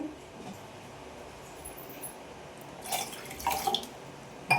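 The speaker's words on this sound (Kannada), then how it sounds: "ಎಷ್ಟು ನೀರು ಹಾಕೋತಾ ಇದ್ದೀನಿ ಅದಕ್ಕೆ" Water poured into a cooking pot for boiling, before cluster beans go in, heard as faint trickling and dripping that swells near the end of a quiet stretch with no talk.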